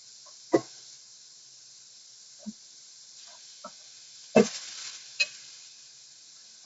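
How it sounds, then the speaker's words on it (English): Bacon and onions fry in a pan over turned-down heat, a quiet steady sizzle broken by several sharp stirring scrapes and clacks spaced a second or two apart. "we're going to fry"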